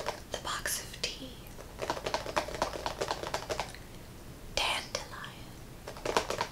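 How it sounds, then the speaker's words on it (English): A box of dandelion spice detox tea handled and tapped up close, with soft irregular taps, crinkles and scratches in clusters under quiet whispering. "ASMR. The box of tea."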